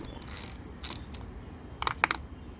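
A wrench loosens the negative battery terminal nut on a Nissan Maxima, giving a few faint, close metallic ratcheting clicks and scrapes over quiet background noise.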